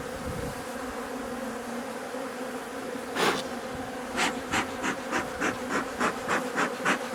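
Honeybees at a beehive keep up a continuous close buzzing hum, with sharper bursts of wingbeats breaking through in a quick, regular series during the second half.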